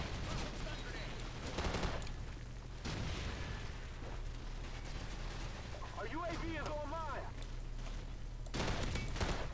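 Call of Duty 4 video game gunfire crackles in sustained bursts and loud volleys of shots, with brief gaps between them and a voice speaking in the middle.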